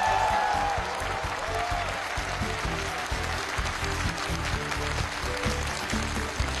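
Studio audience at a televised Chinese idiom quiz final, a steady, full round of applause sustained evenly for several seconds without talk.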